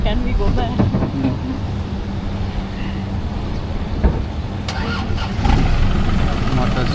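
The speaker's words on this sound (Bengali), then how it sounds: "মোটর স্টার্ট হয়ে গেল" A boat motor on a Krabi island tour near Railay beach cranks and catches, its mid-pitched engine rumble settling into a steady idle while people talk close by.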